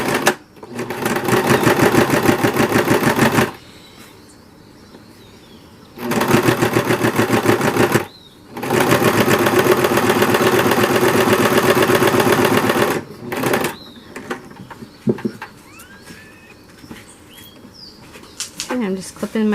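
Sewing machine top stitching a reusable family cloth, two long loud bursts of rapid needle chatter separated by a pause, followed by quieter clicks and handling of fabric and thread.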